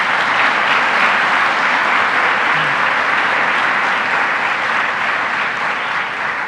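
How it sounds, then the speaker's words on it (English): Sustained applause from a crowd at a public government event in Onondaga County, steady and dense clapping filling the whole stretch without talk. "I want to give another round of applause to our leader here in the county of Onondaga, Ryan McMahon."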